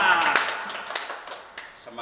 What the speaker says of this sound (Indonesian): Tepuk tangan bersama-sama.